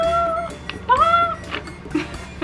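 A female house cat meows several times, short rising-and-falling cries heard close by over a low, noisy room background.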